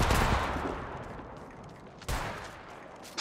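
A frag grenade goes off in the battle-royale game Apex Legends, opening with a loud blast that fades into a rolling decay, then a second sharp bang follows about two seconds later. No voices.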